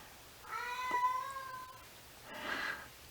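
A house cat meows twice, a clear drawn-out tonal meow followed about a second later by a shorter, breathier one, close by in a quiet room.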